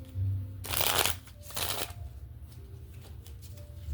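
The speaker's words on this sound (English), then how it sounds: "Let me shuffle." Tarot cards being shuffled close by: a loud riffling burst, then a second shorter riffle, followed by soft handling and rustling of the deck.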